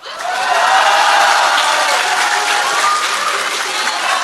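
Loud, sustained applause with some cheering fills the hall at a political party rally, rising quickly then holding steady as a dense wash of clapping.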